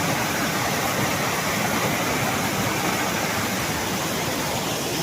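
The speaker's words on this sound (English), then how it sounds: "This is a pretty good sized waterfall." A good-sized waterfall roars in a dense, unbroken wash of rushing water, loud and close, steady throughout with no voices.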